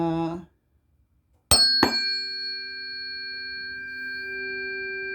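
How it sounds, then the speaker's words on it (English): A voice stops, then two metallic strikes ring out a beat apart, leaving two clear sustained tones that hum steadily and slowly fade. "strike the tuning forks"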